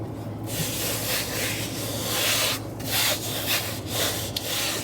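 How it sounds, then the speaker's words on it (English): Rubbing strokes smoothing a protector skin onto a MacBook Pro 16 M1, a steady close-up friction hiss broken by short pauses, with no voices. "So give it a good rub down."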